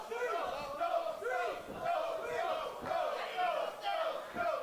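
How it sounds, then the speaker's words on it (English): A wrestling arena crowd chants in unison, counting along with a pinfall, with each loud collective shout landing roughly once a second in a steady rhythm. "The crowd counting how many dollars they have between them."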